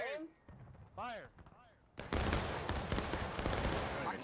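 Musket gunfire from a volley crashes out in the War of Rights video game, a sudden loud burst of overlapping shots that keeps crackling after brief shouted voices.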